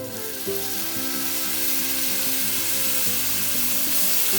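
Ginger, garlic and green chilli fry in oil for pork adobo, a loud, dense, unbroken sizzle up close with a faint steady hum beneath it.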